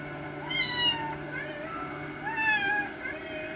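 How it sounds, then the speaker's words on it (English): Two high, plaintive kitten meows ring out over a steady in-game hum in Limbus Company, the first around half a second in and the second near two and a half seconds. "A lost little kitten."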